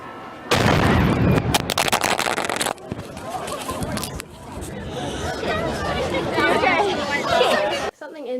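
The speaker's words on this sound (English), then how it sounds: "We're going to be setting off one of the cannons." A historic cannon fired in Russia: a sudden loud blast, then sustained rumbling noise mixed with crowd chatter and people talking for several seconds.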